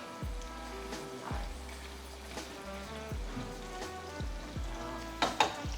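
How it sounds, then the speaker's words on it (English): Beef frying in a pot for Ghanaian jollof gives a steady, close sizzle, with occasional utensil knocks and scrapes against the pot and a couple of sharper clatters near the end. "while the beef is frying, we can add in the rice"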